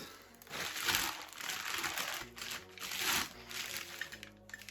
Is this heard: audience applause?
no